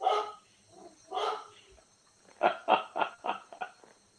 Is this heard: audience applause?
no